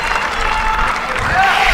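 A large tennis crowd at a WTA event in Mumbai roars and applauds in a steady, loud wash of clapping and cheering that swells slightly toward the end.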